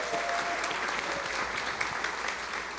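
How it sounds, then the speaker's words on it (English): Brisk applause from a breakfast-event audience cheering the Minnesota Timberwolves, a steady wash of many hands clapping throughout. "Round of applause for where the Wolves are headed."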